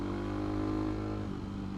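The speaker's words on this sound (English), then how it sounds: "You can hear when I downshift just how quick" CCM Maverick motorcycle engine downshifting, a brief steady mid-range engine drone that dips in pitch near the end, heard alone without speech.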